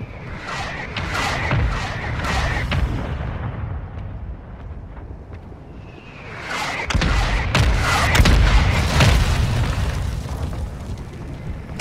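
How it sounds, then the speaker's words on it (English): Mortar shells burst repeatedly in Call of Duty: Warzone Mobile, a series of heavy explosive booms with rumbling tails, one loud cluster early and a denser, louder barrage in the second half; no voices. "Hostile mortar strike incoming."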